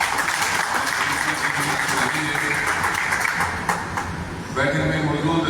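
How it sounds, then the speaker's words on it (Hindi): At a political gathering, an audience applauds to welcome a local MLA, a hall-filling patter of clapping under a loudspeaker voice, dipping briefly near the end before swelling again. "आज यहाँ उनका तालियों से आप उनका जोरदार स्वागत करें।"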